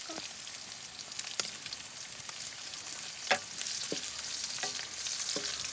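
Garlic and onions fry in hot oil in a pan after pork has browned, giving a continuous crackling sizzle broken by a few sharp spatula scrapes and taps, close up with no voices.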